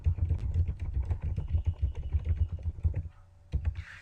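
Fast, steady typing on a computer keyboard, with dense clicking keystrokes close up that pause briefly before a few more keys are struck.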